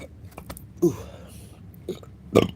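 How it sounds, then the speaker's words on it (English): A man lets out a few low, throaty burps in quick succession, with the last one the loudest, between bits of quiet talk in an indoor setting. "If I'm burping, it's just literally energy."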